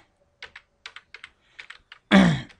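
Close keyboard typing of CSS style code comes in short bursts of key clicks with pauses between them, then ends in a loud vocal sound.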